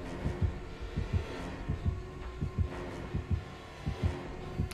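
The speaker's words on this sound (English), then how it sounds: "I've got a heartbeat." Killer terror-radius heartbeat warning from the horror game Dead by Daylight, a steady, deep double-thump pulse repeating throughout at moderate loudness with no talking.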